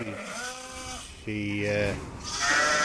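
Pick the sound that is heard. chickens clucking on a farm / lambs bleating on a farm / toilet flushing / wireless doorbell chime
lambs bleating on a farm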